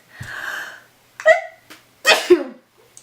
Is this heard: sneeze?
yes